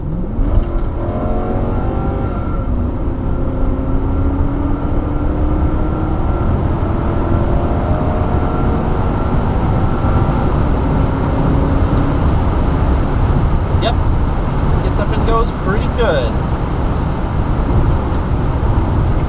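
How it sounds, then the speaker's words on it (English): A 1996 Lexus LS400 pulls onto the highway, its engine building in a long, smooth acceleration heard from inside the cabin over steady road roar, with a brief spoken comment near the end. "we're going to jump on the highway, so let's get a little acceleration"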